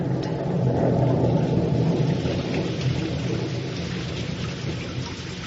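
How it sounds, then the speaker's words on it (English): Steady heavy rain pours down, a dense, constant hiss with a low rumble underneath, no voices. "The rain has come, even as the Lord promised."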